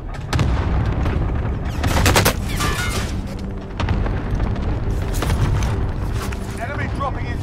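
Cluster strike explosions in a military shooter video game, a loud continuous barrage of booming blasts and rumbling impacts over several seconds, with voices talking over the bombardment.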